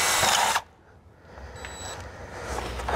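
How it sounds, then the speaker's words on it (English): A power drill bores holes for an aftermarket bumper on a 2018 Ford Raptor, whining loudly up close for half a second before cutting out, leaving a quiet workshop with a faint high tone. "So I'm gonna go ahead and drill."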